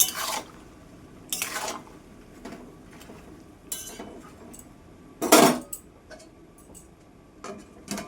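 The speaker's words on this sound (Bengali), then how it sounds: "এবার ঢাকা চাপা দিয়ে দেবো" A lid goes onto a cooking pot of vegetables boiling in salted water, with scattered light metallic clinks and one loud clatter near the end, close and without talk.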